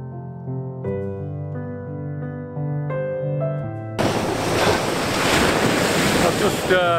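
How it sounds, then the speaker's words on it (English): Sea waves wash and recede along the shore at Spurn Point, a broad roaring surf that cuts in suddenly and stays loud, with wind buffeting the microphone throughout; tonal music plays beforehand. "the sea and that as it recedes away"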